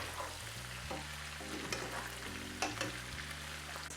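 Ribs and hot pepper sizzling steadily in a frying pan while being stirred, with a continuous close frying hiss and occasional scraping clinks of the utensil against the pan, no talk.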